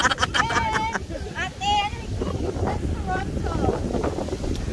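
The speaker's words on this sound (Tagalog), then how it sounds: "Ba't nalakas ng hangin?" Strong wind roars steadily across the microphone at Niagara-on-the-Lake, with voices talking over the gusty rumble throughout.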